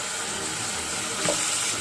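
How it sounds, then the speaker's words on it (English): Warm water runs steadily from a tap into a sink where wool puttees are soaking, a continuous close hiss and splash with a slight burble near the end and no voices. "So I've got them in the sink now, using warm water."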